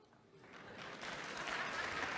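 Applause starts quietly from a few hands, then builds into louder, fuller clapping from an audience.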